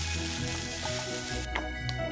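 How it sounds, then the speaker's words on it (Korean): Salted cucumber stir-fried in a frying pan makes a dense, continuous sizzle, close and steady, with light scraping and stirring sounds on top. "절인 오이는 수분이 날아가도록 볶아주면 됩니다."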